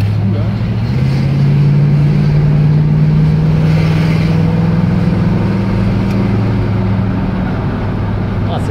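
A Ford Gran Torino's engine droning and rising in pitch as the car drives, a steady loud rumble under a faint voice.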